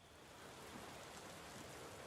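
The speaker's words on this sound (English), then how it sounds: "I hope it stops raining very, very soon" Steady rain falls in the tavern-management video game Tavern Keeper, a soft, even hiss of drops on surfaces that holds constant and faint with no voices over it.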